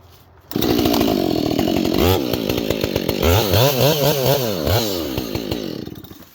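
A chainsaw with a 32-inch Tsumura Premium Lightweight bar and semi-skip square ground chain starts loud and close, its engine whining up and down in pitch as it bites through wood for several seconds.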